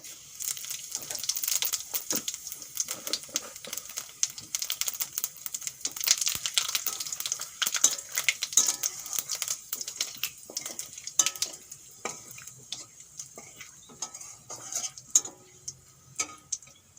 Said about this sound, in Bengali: তেল গরম হয়ে গেছে এখন ফোড়নে দিয়ে দেবো আমি একটা তেজপাতা একটু জিরে